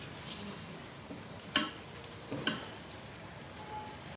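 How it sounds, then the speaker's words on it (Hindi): Mutton being fried down in a pot for aloo gosht, a quiet steady sizzle with a couple of sharp clinks of a spoon against the pot. "अच्छी तरह से गोश्त की भुनाई करें, ये बहुत ज़रूरी है"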